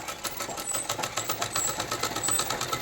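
Sewing machine running continuously while stitching a salwar, a rapid rhythmic chatter of needle strokes close up, steady and moderately loud with no talking.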